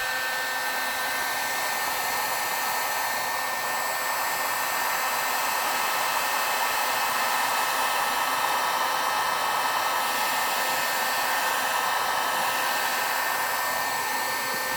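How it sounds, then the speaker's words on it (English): A heat gun blows steadily for the whole stretch while shrinking wrap onto a LiPo battery pack, a constant close airy whine and rush with no pauses or talk. "heat gun."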